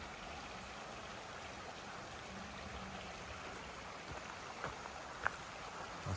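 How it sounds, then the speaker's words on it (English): Creek water cascading over small drops beside a trail along a river, a faint, steady distant rush with a few brief splashes near the end and no talking. "Lots of little cascading places along the river,"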